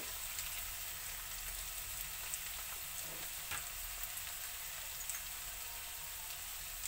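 Ivy gourd (dondakaya) frying in a pan for a coconut fry, a faint steady sizzle with soft crackles and an occasional light stir, no voices.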